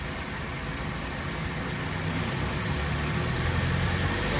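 Car engine idling steadily as the idle adjustment screw is turned, a continuous mid-low engine hum with a faint high squeal that grows slightly louder and busier toward the end, no talking.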